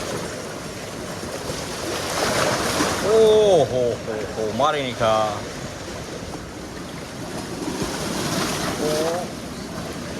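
Sea waves surge and roar into a cave at a temple near Mahuva, with buffeting wind noise, while someone shouts excitedly over the rushing water.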